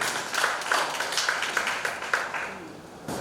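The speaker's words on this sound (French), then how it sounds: "On va essayer de l'applaudir aussi." An audience at a festival gathering gives a burst of steady, moderately loud applause, with the claps running evenly for a few seconds before thinning out.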